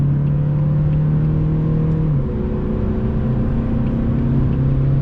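A 2016 Volvo S60 D4 with a 190-hp four-cylinder diesel accelerates on a motorway, a loud steady engine drone heard from inside, whose pitch shifts and continues climbing with no talking over it.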